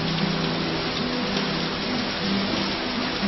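Steady, dense rainfall pours down as an unbroken wash of hiss at close range, with no voices and no distinct thunder.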